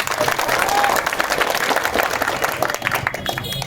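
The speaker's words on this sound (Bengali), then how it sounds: "বীরগঞ্জবাসীর জন্য আমার পক্ষ থেকে একটা করতালি হয়ে যাবে" A crowd at a market election rally before the parliamentary vote claps and applauds steadily for several seconds, a dense, loud patter of hands.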